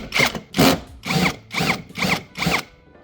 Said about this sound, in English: we got two 10mm nuts that need to be removed